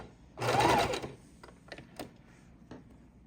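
Domestic sewing machine stitching fabric scraps for home decor: one loud burst of rapid needle stitching lasting about half a second, then a few quiet clicks and taps of the machine and fabric.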